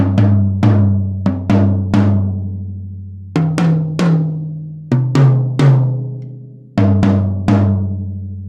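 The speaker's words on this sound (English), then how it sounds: "and the low tom." An unmuffled low tom, tuned fairly high, is struck repeatedly in bursts of quick hits separated by short pauses. It gives a deep, booming, ringing tone, close and loud throughout, with no one speaking.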